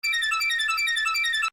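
Time-stretched arpeggiated synth melody pitched up two octaves, a thin, bright, chirpy run of rapid repeating notes, loud and close, starting and stopping cleanly with no voices.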